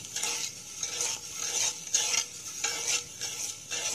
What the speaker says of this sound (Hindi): और इसे आप लगातार चलाते रहें जब तक हमारी शुगर जो है वो मेल्ट ना हो जाए।